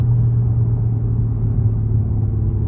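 A car with Hoosier tires and a replaced 180 thermostat accelerating hard, a loud, steady low engine rumble close by with no talk.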